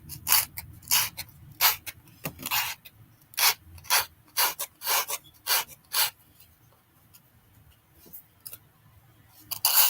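Material trimmed down by hand while assembling a brunch dish, giving a series of short rasping, rubbing strokes in irregular bursts, close and fairly clear, with quiet gaps between and no talk.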